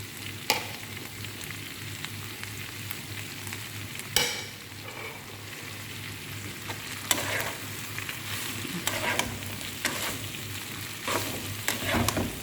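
Rice tossed and stir-fried in a hot pan with prawns, a steady sizzle running throughout, broken by occasional sharp clatters of the spatula against the pan.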